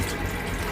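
Water runs from an RV's onboard tank during dry camping, a steady, loud, close rushing flow with no break and no voices.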